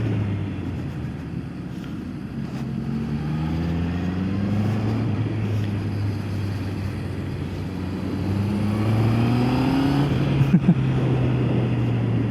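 Honda CB650R E-clutch motorcycle engine revving up through rising pitch sweeps, a steady close drone that climbs again near the end with no talking.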